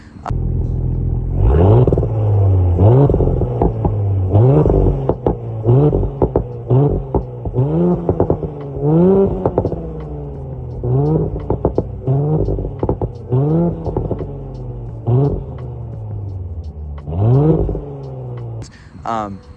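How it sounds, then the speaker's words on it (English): An Audi S5 Sportback's exhaust revs repeatedly at a standstill, rising and falling in throaty bursts with crackles between, loud and close throughout. "I'll put an exhaust clip right now of the car, and you can hear how it sounds."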